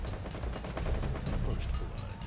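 Rapid gunfire in the mobile battle royale game Free Fire, a dense stream of shots with heavy low thumps, loud and continuous through the short stretch.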